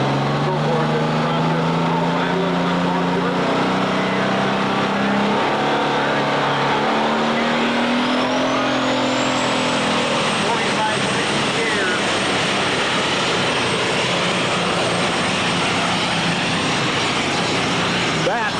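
A John Deere 4560 pulling tractor with a modified power plant from North Canton, Ohio, bellows at a tractor pull, its loud engine note climbing and shifting pitch as it strains down the track, with an announcer talking over it.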